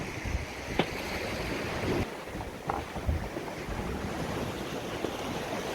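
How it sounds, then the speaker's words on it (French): Steady wind and sea wash aboard a sailboat ten days into a transatlantic race, with roughly 24-25 knots of wind blowing; a broad continuous roar with a few brief knocks and splashes, no voices. "Le vent s'est pas mal levé, là il y a 24-25 nœuds."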